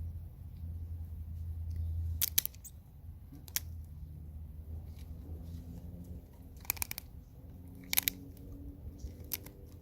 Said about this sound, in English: See, I'm making cuts now of multiple sprues